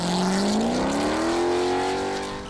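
A custom stunt flip car's engine, loosely based on a Formula One car, roars loudly and continuously, its deep growl climbing in pitch as it revs up, close and dominating.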